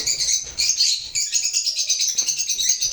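Lovebirds chirping close by, rapid high-pitched chatter in a continuous stream of overlapping tweets.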